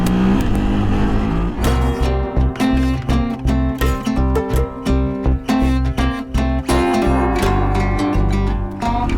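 A KTM FE350 dirt bike engine runs loud and close on a mix of road and trail, its single-cylinder note rising and falling through repeated revs and gear changes.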